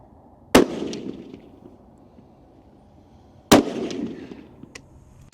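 Two loud, sharp gunshots ring out at an outdoor shooting range a few seconds apart, each followed by a brief fading echo.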